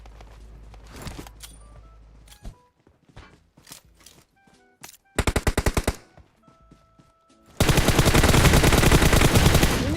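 Gunfire in the mobile battle-royale game PUBG Mobile: scattered single shots and short bursts, then a sharp rapid volley near six seconds and a loud sustained automatic barrage from about eight seconds to the end, with faint footsteps between.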